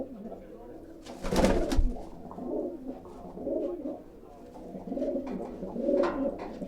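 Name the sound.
pigeons cooing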